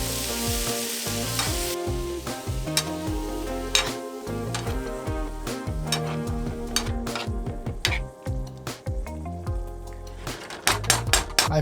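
Chopped tomatoes fry in a hot pan with loud, steady sizzling, broken by frequent clinks and scrapes of a utensil stirring against the metal. No one talks over the cooking.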